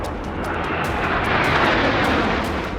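Indian Air Force fighter jet, a Sukhoi at Tezpur airbase during a military exercise, roaring loudly and steadily as it passes overhead, with broadband engine rumble swelling slightly mid-pass.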